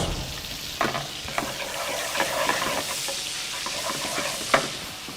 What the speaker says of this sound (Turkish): Yağımız kızdı. Hemen bunun da Üzerine biraz kırmızı biber.